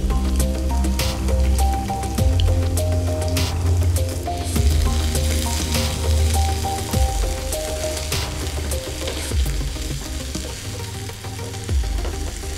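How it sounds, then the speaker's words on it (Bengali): Dried red chillies and chopped garlic fry in hot oil in a pan for a Bangladeshi prawn dish, giving a steady, loud, close sizzle and crackle that runs throughout with occasional utensil stirring and no talk. "আর এই লঙ্কার মধ্যে দিয়ে দিচ্ছি রসুন কুচি।"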